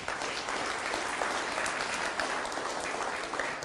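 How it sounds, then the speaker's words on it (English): An audience applauding steadily at a personality-types seminar, dense and sustained clapping at an even level with a faint murmur underneath. "Round of applause for pearls"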